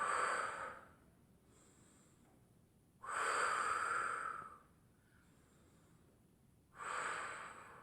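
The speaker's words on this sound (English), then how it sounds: "Exhale through the mouth" Three slow, breathy exhales through the mouth, each lasting about a second or more, separated by quiet pauses, close and fairly soft, during a cardio mat workout cool-down.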